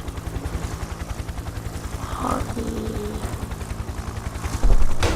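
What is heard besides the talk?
helicopter flying in the video game Happy Wheels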